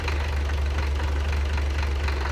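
An old Tino EC100 engine runs steadily up close, a continuous low rumble with a fast knocking rhythm and no pauses, loud and alone.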